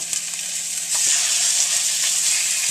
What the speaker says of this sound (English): we're going to start our pork chops. Can you hear that sizzling?